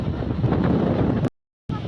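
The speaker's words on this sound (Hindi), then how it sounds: "बहुत तेज़ हवा चल रही है, देख रहे हैं आप लोग, सब उड़ रहा है।" Strong wind buffets a phone microphone outdoors, making a loud, continuous roaring rumble that cuts out completely for a moment before resuming.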